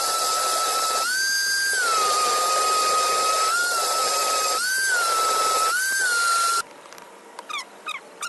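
A power sander works over small Purple Heart and Padauk wood boards, a steady high-pitched whine that dips briefly several times before cutting off, followed by a few short intermittent bursts.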